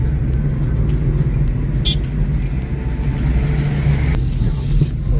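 Road traffic crossing the new Virar bridge, a loud, constant engine rumble and tyre roar from passing vehicles, steady and close throughout with no voices.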